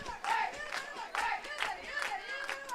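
Voices cheer and chant in rhythmic bursts from a baseball dugout close by, the Nighthawks bench at a college regional tournament game, loud and sustained throughout.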